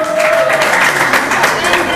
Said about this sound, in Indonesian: Tepuk tangan buat Bella